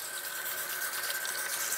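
Tap water running steadily into a sink during handwashing, a constant close hiss and splash with no breaks and no talking.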